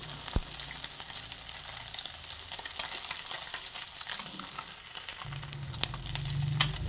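Amudi fish frying crisp in hot oil for a spicy oil-chili curry, a steady close sizzle with crackling pops and a few spoon scrapes, no talking.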